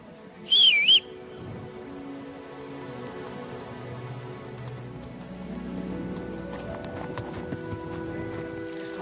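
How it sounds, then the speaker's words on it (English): Horse hooves clip-clop steadily in the video game Kingdom Come Deliverance 2, set against a soft rain-like ambience, with a brief shrill whistle near the start. "This horse must have cost a pretty groschen."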